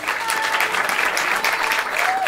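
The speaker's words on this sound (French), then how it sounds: "Si vous pensez que la première paire mérite de rester," An audience at a Paris improvisational theatre festival applauding to vote for the first improv pair, with brisk, loud clapping and a few cheers and whistles filling the short burst.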